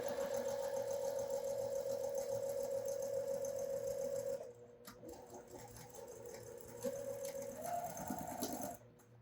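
A sewing machine stitches a quilt block for a twist-style pattern, a steady mid-pitched motor whir with fast needle patter running evenly, pausing briefly midway, then resuming for a short final burst.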